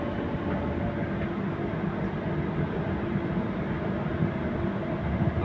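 A Doha Metro train in Qatar gives off a steady, close rumble of wheels and motors, a dense low roar that holds at an even level throughout with no voices.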